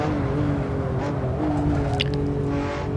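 Simulated car engine note from Assetto Corsa racing on a Scottish road course, a steady droning tone with slight pitch shifts and faint rustling over it, constant and fairly loud.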